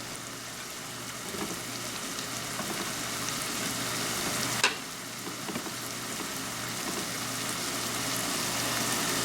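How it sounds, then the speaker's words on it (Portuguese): Shrimp sautéing in a thread of olive oil for a shrimp risotto gives off a steady, close sizzle and hiss throughout, broken by a single sharp click near the middle, with no talking. "Nós vamos colocar um fiozinho de azeite e vamos dar uma refogadinha também no"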